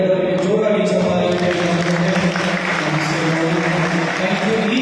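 An audience applauds after a Jesus passion play in Chikkaballapur, with a sustained, dense wash of clapping filling the space throughout while a voice speaks over it.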